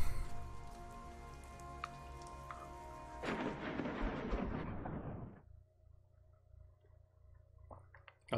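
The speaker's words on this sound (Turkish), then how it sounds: "Bir şimşek nelere kadirmiş yahu?" Steady rain with a loud, rolling thunderclap in the puzzle video game The Gardens Between; the rumble swells and fades, leaving softer rain and scattered drops afterward.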